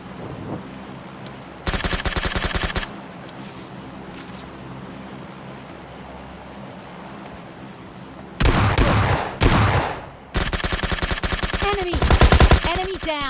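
An S12 shotgun fires in a video game match in several loud, rapid bursts of shots, close and punchy, over steady game background ambience.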